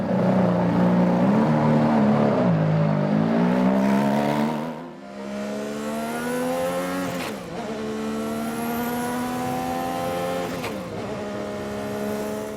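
A Ferrari F187 Formula 1 car with a 1.5-litre turbocharged V6 of 880 brake horsepower screams at high revs, climbing through gears with brief dips at the shifts, loud and close with no talk.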